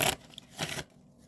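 Two quick, papery riffles of tarot cards being shuffled up close, each a brief rustling burst, then quiet.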